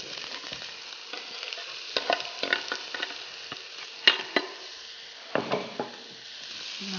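Ginger, carrot and potato stirred in a pot for a clear vegetable soup, quiet sizzling under repeated scraping strokes of a spoon, uneven bursts of stirring close up, with no talking.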